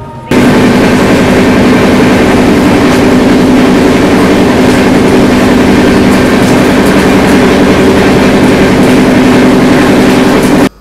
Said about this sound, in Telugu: 10:45 ప్లాట్ఫామ్ 1 నుండి మన విశాఖ ఎక్స్ప్రెస్ డిపార్చర్ తీసుకోవడం జరిగింది